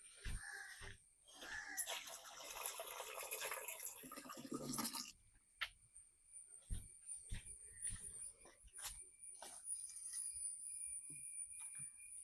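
Water is scooped and poured out while fishing with a net in a small stream. A splashy pour lasts a few seconds, followed by scattered drips and small splashes.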